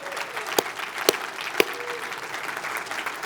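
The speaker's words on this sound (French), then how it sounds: "Est-ce qu'on peut applaudir?" An audience at a church talk gives a short burst of clapping, with a few sharp, distinct claps standing out over softer, scattered applause.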